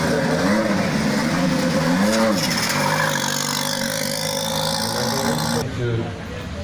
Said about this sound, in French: Avec le 310 donc se présentera la Porsche de Frédéric Lemoine.